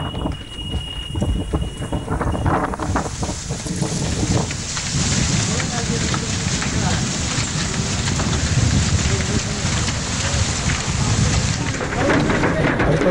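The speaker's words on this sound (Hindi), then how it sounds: "दोपहर बीतते बीतते मौसम ने अचानक करवट ले ली और उसके बाद तेज आंधी और बारिश के साथ साथ कुछ जगहों पर ओले पड़ने की भी खबरें हैं" A strong wind and rain storm in Delhi blows and pours with a loud, continuous roar of gusts and heavy rain hitting surfaces, rising after a brief calmer start and staying dense throughout.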